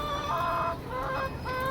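Layer hens cluck and call in a farm shed, with drawn-out, wavering cackles that overlap in several phrases over a constant background din, fairly close and loud, with no voices.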